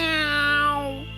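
A voice for a character in a Tamil-dubbed Chhota Bheem kids' cartoon imitates a cat, giving one drawn-out, close, tonal meow that slides downward and fades at the end.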